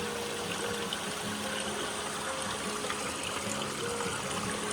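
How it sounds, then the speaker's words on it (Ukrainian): Waterfall water trickles and splashes into a bottle on a hiking trail, a soft continuous burbling stream heard quietly and alone throughout. "Спочатку берете так бутилку, набираєте трошки води."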